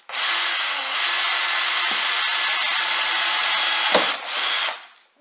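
Power drill boring through the tough steel pillar of a Nissan Navara NP300 with a non-cobalt bit, a steady loud high whine running nearly five seconds with a brief catch near the end before it stops.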